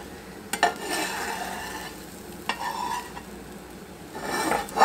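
Eggs sizzle in a breakfast skillet while a spatula scoots them over, with a soft frying hiss and several scraping, clattering strokes against the pan, close and without talk.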